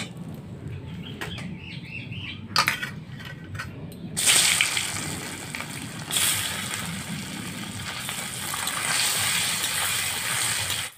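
An egg frying in hot oil seasoned with a little salt and turmeric: quiet kitchen handling, then a sudden loud, broad crackling sizzle that swells and keeps going close by, with no speech.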